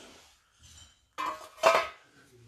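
Old cooking pots clink and clatter in an abandoned shopping centre: a faint knock or two, then two louder metallic clanks close to the microphone, with quiet gaps between.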